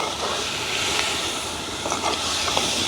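Tomatoes and onions sizzle in a pan over an open wood fire outdoors, a steady broad hiss running throughout with faint crackles near the end, no talking.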